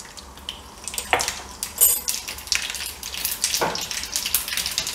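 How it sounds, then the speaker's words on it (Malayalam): Dried red chilies and mustard seeds frying in hot oil, a soft sizzle with sharp pops and crackles scattered through it, plus a clink of a utensil. "അതിലേക്ക് ആദ്യം തന്നെ വറ്റൽമുളക് ഇടുന്നു. അതൊന്ന് മൂത്ത് വരുന്ന സമയത്ത് നമുക്ക് കുറച്ച് കടുക് ഇട്ട് കൊടുക്കാം."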